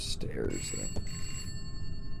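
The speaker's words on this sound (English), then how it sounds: "Oh, wait, no, that's a phone." A telephone rings in a spooky video game, a steady electronic tone sounding beneath someone talking over it.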